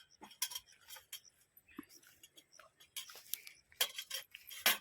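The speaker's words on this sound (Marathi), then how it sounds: "बटाट चिरून झाला आता मिरची चिरतो" Green chillies chopped finely with a knife on an outdoor rural cooking setup, giving a run of quick, sharp, irregular taps and clinks that cluster into dense bursts near the end, fairly close with no talking.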